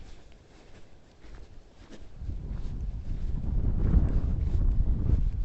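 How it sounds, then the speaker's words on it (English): Low, rumbling wind buffets the microphone, growing louder and steadier over several seconds with no talking. "Ooh, windy."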